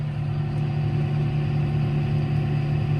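A John Deere 6215R tractor engine runs with the PTO engaged while feeding and bedding cattle, giving a steady, loud mid-pitched drone with a constant harmonic hum and no talking.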